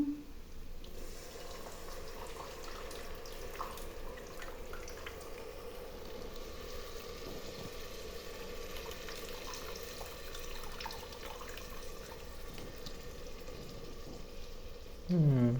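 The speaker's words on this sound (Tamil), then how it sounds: "அடுத்தது புளியை கரைச்சி ஊற்றணும்." Dissolved tamarind water pours steadily into a pan while cooking tamarind rice in a home kitchen, a continuous watery rush with light sizzling that runs evenly throughout, ending with a brief louder clunk.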